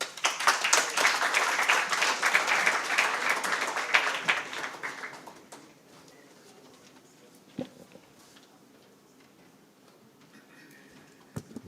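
An audience at a formal address gives a strong round of applause that fades out about midway, leaving a quiet room with a few isolated claps and small noises.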